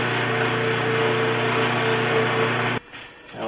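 A wooden pen spins against a new buffing wheel on a powered buffer, giving a steady, loud motor whir with a constant hum that runs unbroken before cutting off abruptly near the end.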